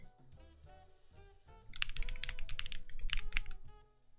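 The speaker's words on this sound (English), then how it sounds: "we're going to type something" Keys clack on a new mechanical keyboard fitted with Clackeys Phyrexia All Will Be One keycaps, first soft and scattered, then a dense, fast run of crisp close typing that stops abruptly.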